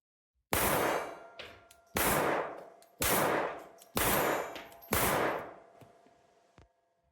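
A Czech vz.50 pistol in fair condition is test fired, with five sharp, loud shots at a steady pace about one second apart, each followed by a short ringing tail and then silence.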